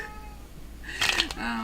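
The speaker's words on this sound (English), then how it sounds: "Sorry that my cat is so loud." A house cat lets out a loud, close meow, a short strained cry with a quick second burst, over a quiet indoor background.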